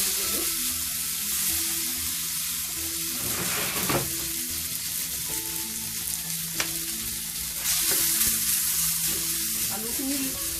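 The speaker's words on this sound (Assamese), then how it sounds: "আলুখিনি বইল কৰি থোৱা আলুখিনি ভালকৈ তেলত ভাজি ল'লোঁ" Boiled potatoes frying in oil with panch phoron sizzle steadily up close, with stirring scrapes and occasional clinks of a spoon against the pan.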